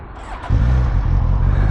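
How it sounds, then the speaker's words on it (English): A Suzuki GSX-S 1000's 1000cc long-stroke four-cylinder engine fires up, its low rumble jumping in abruptly after a brief quiet moment and settling into a steady, loud idle close by. "fires up, and that 1000cc legendary long-stroke four-cylinder comes to life"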